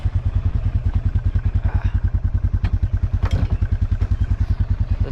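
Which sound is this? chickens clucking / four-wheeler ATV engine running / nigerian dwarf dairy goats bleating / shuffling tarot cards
four-wheeler ATV engine running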